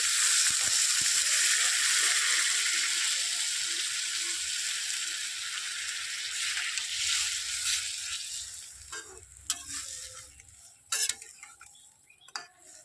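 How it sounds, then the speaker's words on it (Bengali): Fried spice paste sizzles loudly and steadily in a pan for fish curry, then fades as potatoes, fish and water go in, leaving scattered utensil clinks and scrapes near the end. "মশলাটা কষানো হয়ে গেছে, এবার আলু আর মাছটা দিয়ে দেবো। এবার জল দিয়ে দেবো।"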